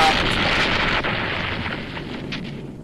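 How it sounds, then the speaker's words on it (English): An exploding bear trap goes off in the Lupin the Third animation, a loud, close roaring blast that rumbles on and slowly fades over a few seconds. "the old exploding bear trap in the ass trick"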